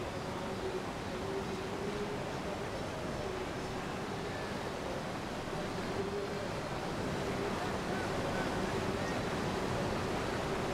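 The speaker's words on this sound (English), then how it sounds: "in your background you can certainly hear the water" River water rushes at a canoe slalom course, a steady broadband roar of whitewater heard continuously at moderate level, with faint wind-like noise.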